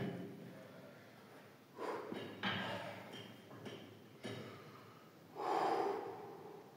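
Several sharp, close breaths and snorts in a quiet room come in uneven bursts as someone prepares for a close-grip pull-up set taken to failure.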